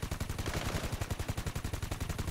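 A newly found gun in a Vietnamese-commentated camera-man plunger video game fires rapid automatic bursts, an even machine-gun-like rhythm of sharp shots running the whole time without a break.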